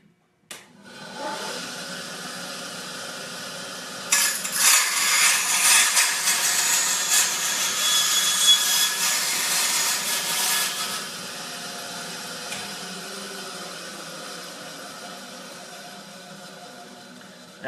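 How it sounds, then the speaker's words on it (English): A bandsaw cuts through a small part, with a steady high whine and a louder gritty cutting stretch in the middle, up close and alone, then the motor runs on and winds down. "I'm just going to whack it off with my bandsaw quick"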